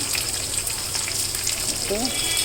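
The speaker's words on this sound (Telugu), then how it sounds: "ఒక 2 ఉల్లికాడలు వేసాను. ఇవి కాస్త వేగాలి." Spring onions and green chillies sizzle in a hot pan for a vegetable stir-fry, a steady close frying hiss with a brief higher tone near the end.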